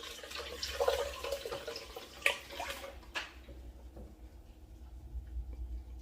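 Garlic tonic liquid being strained off in a kitchen, giving soft trickling and splashing water sounds with a few small clinks, fading quieter toward the end.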